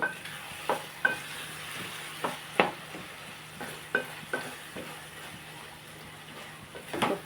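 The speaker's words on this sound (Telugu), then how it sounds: "ఒకసారి కలుపుకుందాం అండి ఇవో టమాటాలు మగ్గిపోతున్నాయి" Tomatoes simmering in a pan with dried shrimp give a soft steady sizzle, broken by a few sharp scrapes and clinks of a spoon as the mixture is stirred now and then.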